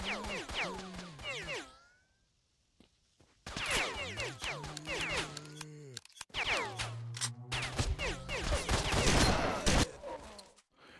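Gunfire in STALKER: Shadow of Chornobyl comes as loud clustered bursts separated by short pauses, mixed with whooshing game effects and someone talking over the action.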